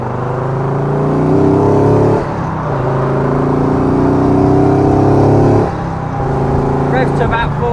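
A 2013 Morgan Three Wheeler engine revs up and down in steady loud surges to about 4,000 RPM, with a brief drop in pitch around two and a half and five and a half seconds.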